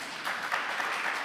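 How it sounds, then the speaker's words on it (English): Steady audience applause, a dense wash of many hands clapping at once, fairly loud and even throughout with no voices on top. "I think we should just clap for Beth Berkowitz right away."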